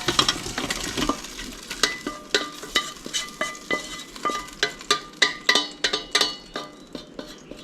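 Goulash ingredients sizzling in an Instant Pot while being stirred, a soft frying hiss broken by a regular series of sharp scraping clacks of a utensil against the pot, close up and without speech.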